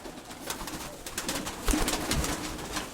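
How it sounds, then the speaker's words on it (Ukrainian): A female pigeon coos among other loft birds, a steady busy chorus of soft calls with scattered sharper clicks and flutters, close and fairly loud throughout. "Ось така голубка"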